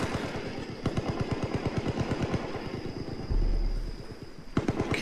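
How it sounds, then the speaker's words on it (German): Rapid gunfire in the video game Far Cry 5, a fast automatic burst of evenly spaced shots rattling for several seconds, then a pause and a few more shots, with a low rumble midway. "Okay, die Schüsse kommen von links."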